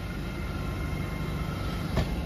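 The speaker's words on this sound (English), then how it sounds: "The 13:01 LNER Arizona from London King's Cross to Harrogate. 800-202." An LNER Azuma class 800 train, running from London King's Cross to Harrogate, passes through Doncaster station with a steady broadband rumble and roar, loud and close, with a brief clank near the end and no talk.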